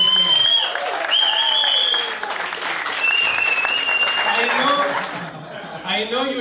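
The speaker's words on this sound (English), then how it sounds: "one more round of applause for all the comedians." Steady audience applause fills the room at the close of a comedy show, lasting throughout with scattered chuckles and crowd murmurs mixed in.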